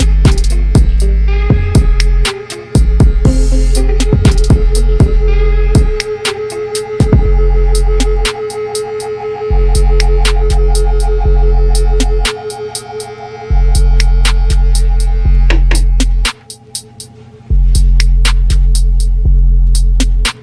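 An electric hair trimmer buzzes loudly and continuously up close, running in long stretches broken by short pauses and many sharp clicks, with no talk.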